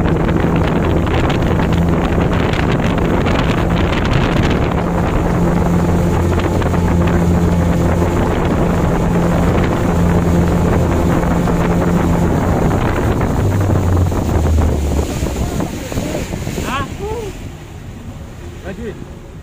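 Speedboat powered by two 40 HP engines running at speed near Kendari, a loud constant engine roar mixed with wind buffeting and water rush, easing off toward the end as someone speaks.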